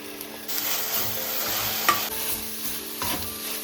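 Chicken fries in hot oil with chopped green chillies, onion and curry leaves, giving a steady loud sizzle with spoon stirring and scraping through it, no voices.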